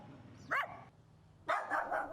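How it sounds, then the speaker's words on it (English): Angry dogs barking on a street, two sharp loud barks a second apart with quiet between them. "all I could find were dogs, angry dogs"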